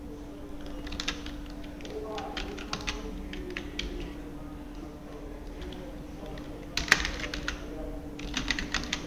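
Keys clatter steadily on a computer keyboard while text is entered into an Excel spreadsheet, a close, continuous patter of taps with a few louder bursts and a faint hum beneath.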